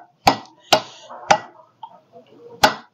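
Four sharp metallic clicks and knocks as a ball bearing is fitted into the hub of a VST Shakti 130 DI fan, spaced unevenly with faint handling noise between them and no talk.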